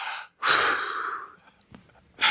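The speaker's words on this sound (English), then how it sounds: "I'll make kind of weird, crazy breathing sounds." Forceful, heavy breaths from a wrestler working a catch wrestling leg hold come as a sharp inhale followed by a long, rough exhale, close and loud, then another breath begins.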